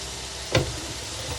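Onions sautéing in a pan over a high flame while making lasagna: a steady, even sizzle throughout, broken once by a brief, sharper clatter near the middle.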